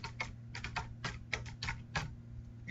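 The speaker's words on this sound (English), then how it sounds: "I can just type in the answers right here" Rapid typing on a computer keyboard, entering quiz answers: bursts of close, crisp key clicks in an irregular rhythm over a low steady hum.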